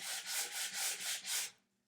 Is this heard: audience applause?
no